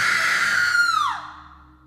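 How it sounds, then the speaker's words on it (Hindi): A single high, sustained scream that rises slightly, then slides downward and fades out, loud and close. "अचानक किसी लड़की के चीखने की आवाज़ सुनाई दी"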